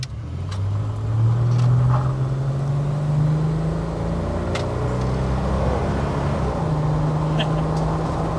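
An automatic car climbing a driveway on a test drive, a steady close engine drone with long sustained tones that shift as it pulls, heard from inside the cabin with a few faint clicks and knocks.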